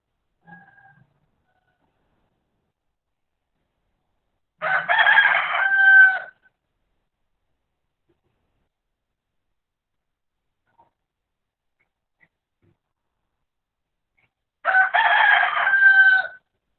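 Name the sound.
chickens, roosters crowing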